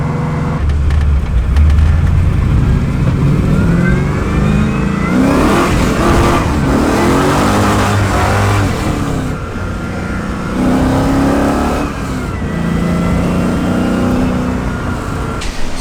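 A car engine runs close and loud, revving up and easing back in repeated surges over a steady idle, with no talk.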